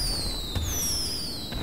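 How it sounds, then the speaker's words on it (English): Fourth of July fireworks in the GTA 5 video game: a couple of faint pops amid descending whistling streaks and a steady background hiss, with no voices over them. "It's daytime, but fireworks are still ineligible."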